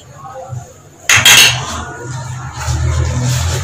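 Spoon scraping and clinking against a bowl while tomatoes are mixed into a spiced potato filling for Lahori-style aloo paratha, a sharp clatter followed by steady stirring, close and alone.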